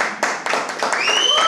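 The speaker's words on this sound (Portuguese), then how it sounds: "Uma salva de palmas pro nosso querido convidado Yud Tamashiro." Clapping for a guest on a Brazilian podcast set, a short burst of studio applause from a few people, with voices talking and a whoop rising over it toward the end.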